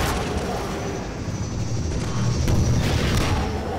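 A rocket-propelled grenade explosion in the video game Half-Life 2 gives a loud, rumbling blast that swells and lingers as a dense roar across the whole clip.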